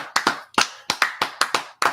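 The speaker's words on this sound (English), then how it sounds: "Let's clap it up." Hands clapping in a men's brotherhood class, about eight sharp claps in an uneven rhythm, close and loud with no talking.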